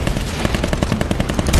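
A tank's rear-mounted machine gun rattles in World of Tanks Blitz, a dense, loud, continuous stream of rapid shots with no pauses across the whole burst.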